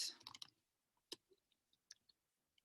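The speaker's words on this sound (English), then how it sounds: "I don't know why I'm typing all this up." Fingers type a social media status on a computer keyboard in a quiet room, a quick burst of clicks followed by sparse, faint individual key taps spaced out over a couple of seconds.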